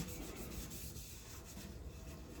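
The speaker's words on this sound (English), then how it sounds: "like to give it a light scuff" Sandpaper lightly scuffs the surface of a goalie mask before painting, giving a soft, close, continuous rubbing hiss with faint rhythmic strokes.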